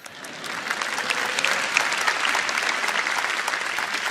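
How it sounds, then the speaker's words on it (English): Dense, steady applause from a large audience at Samsung's live Galaxy Note 9 launch event in August 2018, rising quickly and continuing evenly with no talk over it. "You can applause,"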